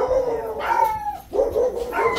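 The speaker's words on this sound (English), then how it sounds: "Sorry for all the dogs." A puppy and other dogs bark, yip and howl close by in a noisy, overlapping chorus, with a brief word spoken over it.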